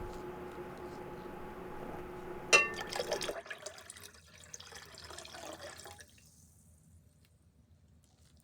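Sodium metabisulfite solution is poured into a gold-bearing solution made from mixed gold-plated pins. A brief splash and pour follow a faint hum, then quiet liquid trickling and dripping fade out, heard close and with no talking.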